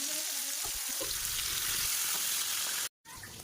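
Pointed gourd and potato pieces frying in oil in a pan, a steady close sizzle with a few light stirring clatters early on, continuing for about three seconds with one brief cut.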